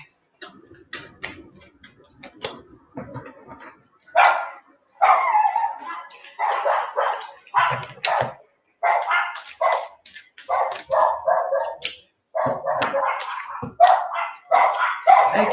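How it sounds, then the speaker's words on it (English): Several dogs barking repeatedly at a distance, a run of sharp barks and yips in irregular bursts with short gaps, fairly loud and without talk. "So they're barking."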